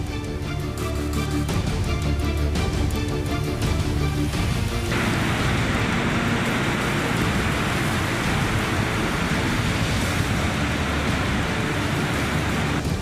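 Heavy floodwater rushes from the Madhuban Dam in Valsad, Gujarat, swollen by heavy rain: a loud, steady, broadband roar of churning water that fills the whole span without pause and with no voices.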